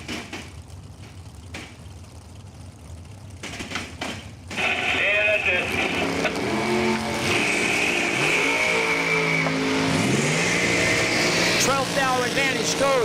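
Drag racing at a dragstrip, including a Chevrolet 350 cubic-inch dragster on a two-barrel carburetor: loud engines roar and rev hard after a quieter stretch, sustained and close, with an announcer's voice talking over them.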